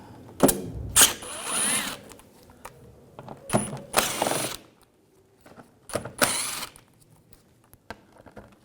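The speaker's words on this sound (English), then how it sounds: "Using a T25 socket, we're going to take these screws out." Bursts of ratcheting from a ratchet with a T25 socket loosening screws on a 2011-2018 Volkswagen Jetta during front impact absorber removal, several short clicking runs separated by pauses, close and clear with no talking.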